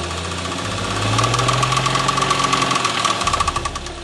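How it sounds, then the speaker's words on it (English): A BMW M135i engine with worn rod bearings runs with a rapid, heavy knocking rattle, the revs rising briefly then falling back, loud and close with no voices. "that sounds like the rod bearings have gone"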